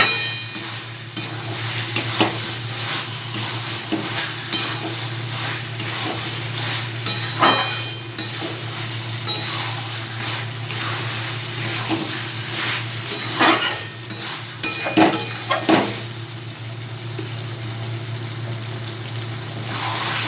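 Pieces of potol and potato in a curry are stirred in a pan over a steady frying sizzle, with repeated scraping and clinking of a spoon against the pan in an irregular rhythm, close and fairly loud, no talk.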